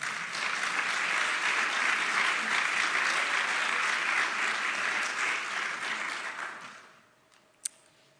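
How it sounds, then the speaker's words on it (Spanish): A church congregation claps for the Lord in a dense, steady round of applause that holds for several seconds, then tapers off quickly into near quiet with a single sharp knock at the end. "Denle un aplauso al Señor"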